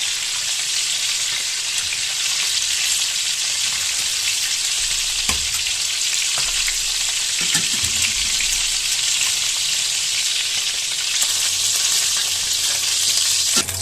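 Pork pieces frying in a pan, a loud, steady sizzle that runs throughout, broken by a few soft knocks and scrapes of stirring.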